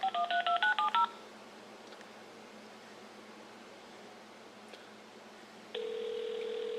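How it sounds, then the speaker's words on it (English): A quick run of touch-tone dialing beeps from a landline phone, about ten short tones in a row, followed by quiet line hiss and then a steady tone. "Now I'm going to take my landline here and dial my cell phone number"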